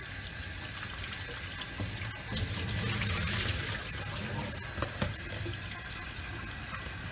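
Tap water running into a container to rinse brine off preserved vine leaves, a continuous gushing splash with occasional clinks and shifts as the leaves are handled, steady and close throughout.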